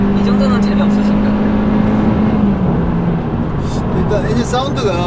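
Kia K3 with a G1.6 petrol engine, running with a slightly rough, gravelly note that holds steady and then eases. It is loud and continuous, close to the listener, with voices talking over it.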